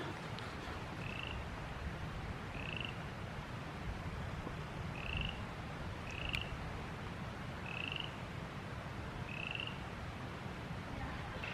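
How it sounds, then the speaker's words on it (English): Frogs croak by a pond in the Uinta Mountains amid melting snow, in a slow, regular series of short calls, about six over several seconds, faint and a little distant over a soft outdoor hiss. "listen to those frogs"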